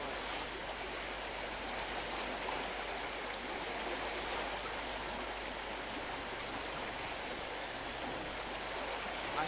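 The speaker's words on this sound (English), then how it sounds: "there's a little bit of a naturally formed waterfall" A small naturally formed waterfall rushes beside a stone arch bridge on a trail by a bird sanctuary, making a steady, dense, unbroken wash of water at moderate volume with no talk.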